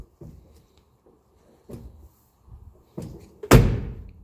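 Door of a 1985 Mercedes 300TD wagon fitted with a new door strap, closing: a few soft thumps and clicks, then one solid, louder slam close by.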